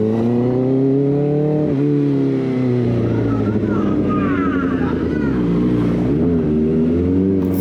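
A Kawasaki ZX-4RR four-cylinder sport bike revs near the listener, its engine note rising and falling through several pulls while someone talks over it.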